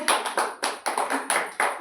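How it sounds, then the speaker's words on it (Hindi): Rhythmic clapping, about seven sharp claps in quick succession and close by, comes from children in a classroom after a story about a fox and a crow. "ताली बजाओ सब जोर से"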